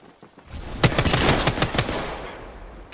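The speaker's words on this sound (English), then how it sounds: "Getting shot at." Rapid automatic gunfire in Apex Legends, several loud, close bursts of shots crackling in quick succession, then fading into a lingering tail.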